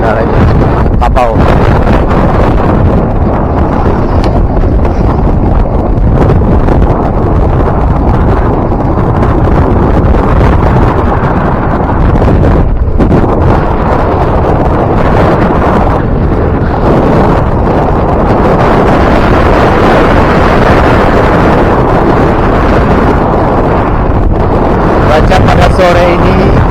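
Strong wind roars and buffets the microphone continuously at a roadside near the road to Pariaman, very loud and unbroken throughout, with a voice speaking underneath.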